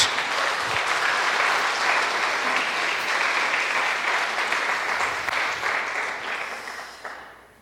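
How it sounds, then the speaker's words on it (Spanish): A church congregation breaks into loud, sustained applause that holds steady for several seconds, then tapers off and dies away at the close. "Damos un aplauso a la palabra de Dios."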